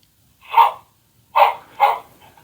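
Doly, a small robot pet companion, imitates a dog with three synthetic bark sounds, one then a pause and two quick ones, clear and close with no talk.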